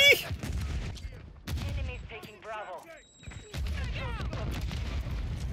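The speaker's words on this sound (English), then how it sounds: "using your ammo like that to pin someone in" Sustained suppressing gunfire in Call of Duty: Modern Warfare 3 multiplayer, a steady stream of shots at the start and again after a short lull, with game chatter and radio-style voice lines layered over the top.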